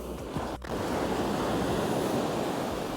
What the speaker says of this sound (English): you can probably see the sandbank, see the lines where the waves are coming over